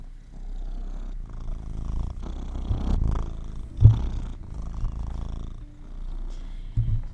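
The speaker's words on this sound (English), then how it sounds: "my cat is just being very distracting right now" A house cat purrs close by in a soft, rumbling, rhythmic drone that swells and fades with each breath, with a brief bump partway through.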